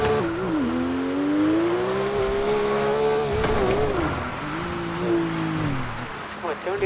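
A car in a video game revs and cruises with a wavering engine tone, with tire squeal, running continuously with people talking over it.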